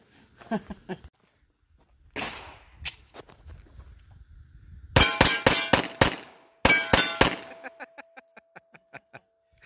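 Several .45 ACP rounds from a Tisas 1911A1 pistol ring off a steel target in bursts of sharp shots and metallic clangs, with quieter gaps and a lingering ringing tone between groups.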